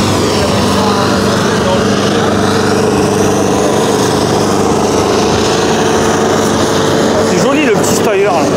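Tractor engine running at a tractor pulling event, a steady loud droning hum with a constant buzzing tone throughout, while people talk over it nearby.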